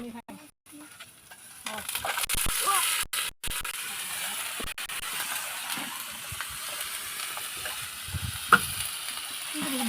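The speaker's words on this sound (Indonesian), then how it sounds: "Ya, tumis bayam oyong." Spinach and luffa sizzle softly in a pan as they are stir-fried at an outdoor camping ground, with scraping stirs and clatters over a faint frying hiss, voices talking nearby.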